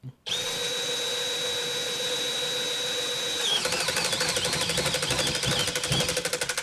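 A Milwaukee M12 Fuel drill driver runs a torque test, a loud high steady whine that shifts into a strained, pulsing grind as the load builds, close up with no talk.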